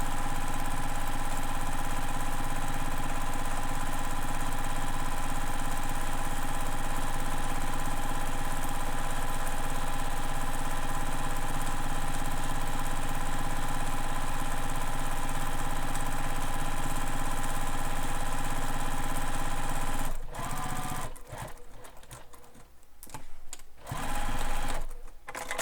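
Sewing machine stitching a crossbody bag seam with a backstitch, a loud, steady mechanical whirring hum running unbroken for about twenty seconds, then stopping and restarting in short bursts.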